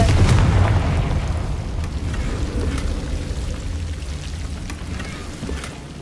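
A Confringo fire spell explodes in Hogwarts Legacy, a loud booming blast at the start that rolls into a sustained crackling, rumbling tail, dense and unbroken throughout.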